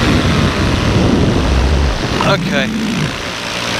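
A paramotor's propeller engine drones steadily at a UK paramotor race during takeoff, loud and close throughout, while a voice speaks briefly over it.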